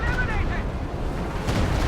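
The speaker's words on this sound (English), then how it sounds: "Whole squad just got wiped by the Stuka there" Booming explosions and scattered gunfire from a Stuka dive bomber strike on an infantry squad in a World War II strategy game, a dense rumbling roar that swells again at the end, with a voice talking over it.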